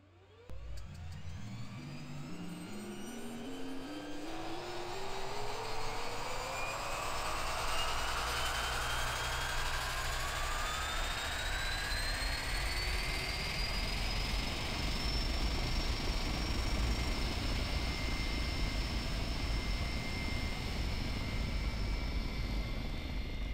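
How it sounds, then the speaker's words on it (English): A simulated propeller aircraft engine starts up in the X-Plane 11 flight simulator. A rising whine climbs steadily and settles into a loud, continuous droning roar that holds to the end. "Got a good engine start."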